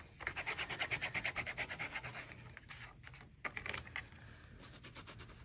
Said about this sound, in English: I sprayed a little bit of alcohol on a rag, and I'm going to just kind of try to wipe off